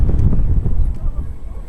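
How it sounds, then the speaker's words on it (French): Low, steady wind rumble buffets the microphone throughout at a Plopsaland amusement park construction site, with muffled voices faintly underneath. "Il y a du vent"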